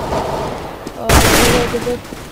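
Gunfire in Counter-Strike: Global Offensive: a sudden loud burst of rapid shots erupts midway and continues in quick succession, preceded by quieter game noise and faint voices.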